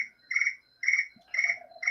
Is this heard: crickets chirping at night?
yes